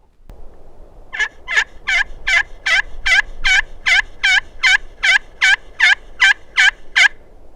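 A hand call imitates a turkey hen's yelp: about fifteen evenly spaced, sharp, raspy notes in a quick rhythmic series after a short pause, loud and close with nothing else heard.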